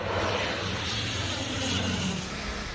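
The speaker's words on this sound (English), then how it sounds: "In Italy, planes dropped water on the slopes of Mount Vesuvius." Firefighting planes dropping water on the slopes of Mount Vesuvius in Italy during a southern European heatwave, heard as a steady, fairly loud broadband aircraft engine roar that holds constant throughout.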